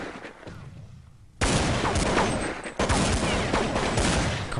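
Counter-Strike match gunfire on the de_tuscan map: after a quieter stretch, heavy continuous automatic fire erupts close and loud, with a brief dip midway before the rattling resumes.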